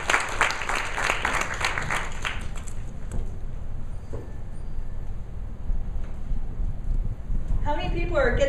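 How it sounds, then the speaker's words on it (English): Audience applause in a hall welcoming a speaker onto the stage, a dense steady clatter of clapping that carries on through the clip, with a brief voice near the end. "So join me in welcoming Ruth and Wood as she speaks her power."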